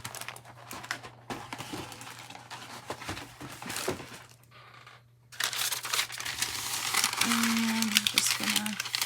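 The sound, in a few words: parchment paper crinkling while handled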